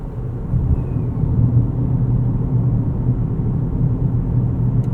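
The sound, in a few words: GMC Terrain AT4 driving, interior road noise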